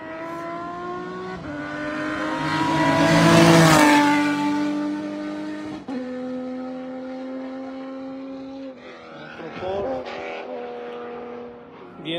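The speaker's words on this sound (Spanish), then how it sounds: "Ahí viene otro, ¿qué es este? Otro Porsche." A Porsche race car on the Carrera Panamericana road race approaches, roars loudly past with rising engine pitch, then shifts and fades into the distance as a second engine note follows; a voice speaks faintly over it.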